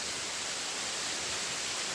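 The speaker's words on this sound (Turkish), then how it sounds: "şelalenin bulunduğu yere sonunda geldim tam arkamda" A waterfall in a mountain forest below a dam pours in a soft, even hiss, a steady unbroken rush heard from a distance.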